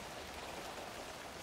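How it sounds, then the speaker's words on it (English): Steady rain falls in the video game Alan Wake 2, a dense, even hiss of drops on surfaces that runs continuously and fairly close throughout, with no voices over it. "Out into the rain."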